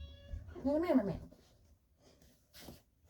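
A pet cat gives a loud, close meow that rises and falls, followed by softer rustling and a short second vocal sound.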